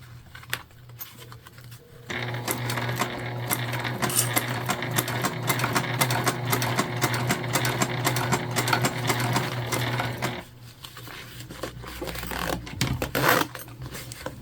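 A sewing machine running steady top stitching along a zipper on a fabric pouch, a continuous close mechanical whir for about eight seconds, then stopping, followed by brief handling rustles.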